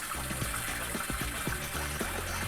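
A stream of water running into a washing machine tub mixed with laundry soap, a steady pouring and trickling sound at close range with no voices.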